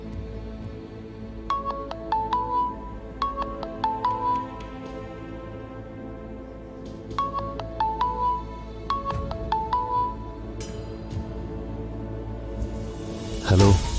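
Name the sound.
phone ringing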